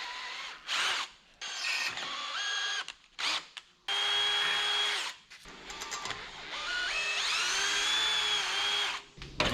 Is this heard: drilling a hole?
yes